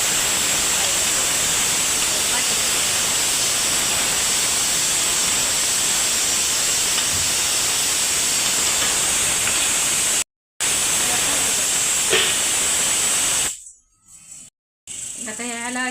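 A pressure cooker on the stove, cooking for a mutton thali, gives off a steady, close hiss of escaping steam for most of the stretch, then briefly cuts out and fades near the end.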